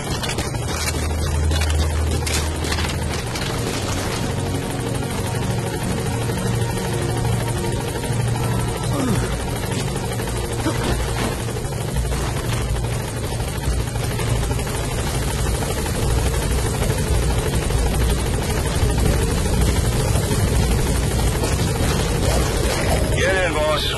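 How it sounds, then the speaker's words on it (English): Support helicopter arriving in Metal Gear Solid V: The Phantom Pain, a loud, steady rotor drone with low engine rumble that holds for the whole stretch, with game voices talking over it. "Support helicopter has arrived."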